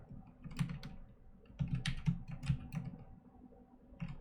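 Computer keyboard keys being typed in bursts of quick, close clicks with short pauses between runs, no talking over it.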